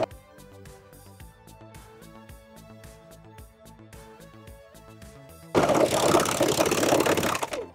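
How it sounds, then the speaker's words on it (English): A serger stitches elastic onto a narrow strip of fabric for a bathing suit strap, its fast rhythmic mechanical chatter running steadily up close, then sharply louder and denser over the last couple of seconds. "we are going to serge the elastic to this little strip of fabric here"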